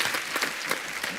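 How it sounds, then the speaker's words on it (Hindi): Steady applause from a crowd welcoming guests at an event, dense clapping filling the short moment with no talking over it. "एक बार जोरदार तालियां हमारे मेहमानों के लिए"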